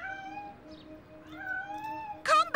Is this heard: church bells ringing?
no